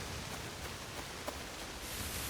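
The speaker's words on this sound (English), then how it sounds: "We're not too badly lashed by the rain and all the undergrowth, but the wind is terrible" Stormy weather in the video game Assassin's Creed Shadows: a steady hiss of rain and wind through undergrowth, fairly faint and even, with a few small taps and no voices.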